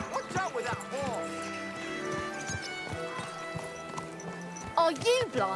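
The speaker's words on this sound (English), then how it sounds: "Watch out with that horse!" Horse hooves clip-clop through a crowded medieval town street in Kingdom Come: Deliverance 2, a steady quick patter under loud shouting and chatter from townsfolk, with a brief whinny-like squeal near the end.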